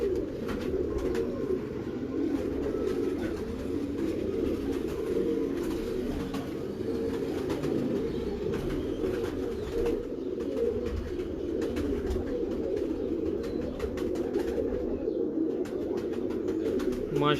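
Pigeons coo in a low, continuous chorus, dense and steady throughout, with faint background rustle and no speech.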